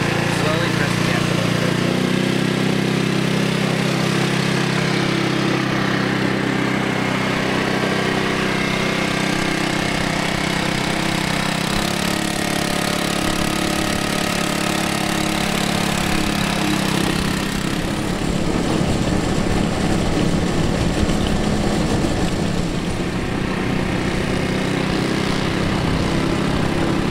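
A car driven on a closed course in a blind-driver challenge hums steadily, its engine note rising and shifting as the gas is pressed slowly, with a voice talking over the drone.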